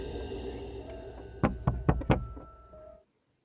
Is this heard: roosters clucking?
no